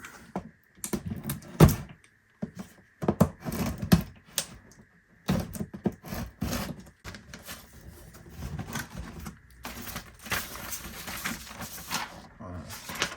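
A Logitech G29 product box is opened, with scattered close clicks, taps and cardboard and plastic rustles in irregular bursts, some louder thumps early on, and a quiet steady hum underneath.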